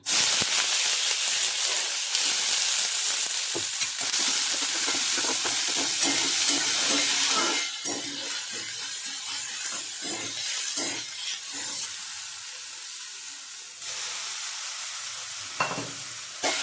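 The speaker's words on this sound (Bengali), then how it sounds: "এবারে চিকেনটাকে 1 মিনিট মতো একটু হালকা ভেজে নিতে হবে এই পেঁয়াজের সঙ্গে" Chicken pieces fry with chopped onions and whole cardamom and cloves in hot oil, a steady loud sizzle broken by scraping stirs, easing slightly midway and continuing without voices.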